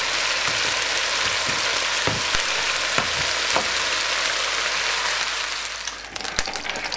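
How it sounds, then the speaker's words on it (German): Onions and garlic frying in hot oil in a wok, a loud, steady, dense sizzle that carries on without a break, with a few scraping stir sounds and a slight drop in intensity near the end. "Wir geben die Zwiebeln und den Knoblauch in das Bratfett und rösten sie etwas an."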